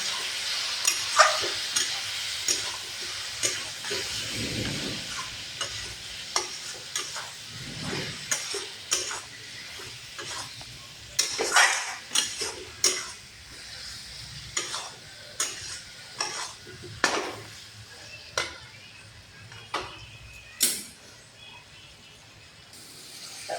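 Spoon stirring chili powder into a frying fish curry of silver pomfret with potato, tomato and eggplant in a pan, a continuous oily sizzle broken by repeated sharp scrapes and knocks against the pan, close and alone without talk.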